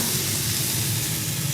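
A tomahawk steak hits a smoking hot cast iron pan and sears, giving a strong, continuous sizzling hiss, close and even throughout, with no voices.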